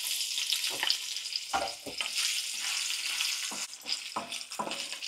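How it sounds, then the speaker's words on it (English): Sausage frying in hot oil, a continuous bright sizzle with bursts of stirring and spattering, steady and close, with no talking. "So, I will fry first the sausage."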